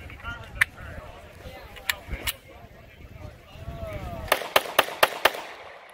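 Taurus GX4XL 9mm pistol fired at an outdoor range, a few scattered shots then a rapid string of five sharp reports close by, with people talking between them.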